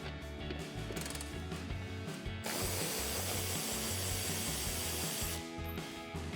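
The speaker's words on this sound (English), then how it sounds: "We can use our 13mm socket to take off the one on the side." Ratchet wrench with a 13mm socket turning a headlight bolt on a 2018-2023 Ford Mustang, giving rapid rhythmic pawl clicks, close and clear, with a short pause partway through.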